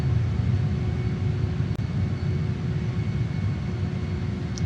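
Saab JAS 39 Gripen jet in Microsoft Flight Simulator 2020 flying over Parliament House in Canberra, Australia, heard as a steady, loud engine rumble and broad roar that holds unchanged throughout, with no talk.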